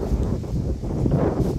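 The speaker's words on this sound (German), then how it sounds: "weil der scheiß Wind laut" Loud, roaring storm wind from a gust front buffets the microphone continuously, a dense low rumble with no pauses.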